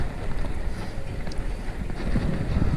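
Gusty wind buffets the microphone during a fixed-gear bike ride around town, with a low, continuous rumble that swells and eases, with no voices.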